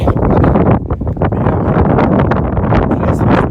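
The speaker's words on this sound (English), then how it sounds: "The wind kind of cancels out the heat" Loud wind on a mountain ridge along the Appalachian Trail buffeting the microphone in gusty, rumbling bursts, steady and close with no voices.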